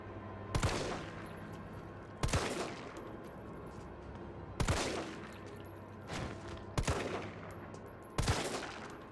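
Gunfire in Resident Evil 3, five sharp single shots spaced about two seconds apart, each loud and close with a short ringing decay over a quiet ambient hum.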